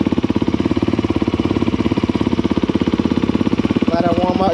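A 2022 Honda CRF250R dirt bike idles just after electric start, a close, steady, rapid thumping with a faint voice near the end.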